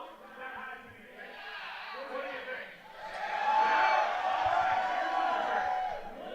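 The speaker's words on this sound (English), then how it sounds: "They're still rowdy here at the ballpark" Rowdy crowd noise at a ballpark during an IBL baseball game between the Kitchener Panthers and London Majors, a steady roar of cheering and whoops that swells louder midway, heard under a commentator's talk.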